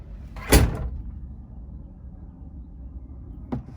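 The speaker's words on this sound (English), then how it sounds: "close the door" Jeep YJ Wrangler door swinging shut with one solid thud, then a faint click a few seconds later in a quiet outdoor setting.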